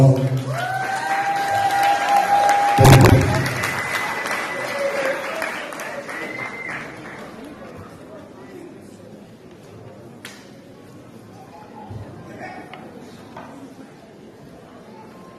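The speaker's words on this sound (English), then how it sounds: "we welcome him to the stage with a warm round of applause." Warm applause from a graduation ceremony audience at a charter school welcomes a speaker to the stage, loud at first and then thinning into scattered clapping and crowd murmur, with a voice speaking briefly over it.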